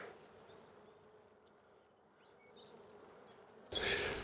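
Honeybees hum steadily around an open frame heavy with capped honey, a dense close buzz with occasional louder passes near the hive, rising sharply at the end.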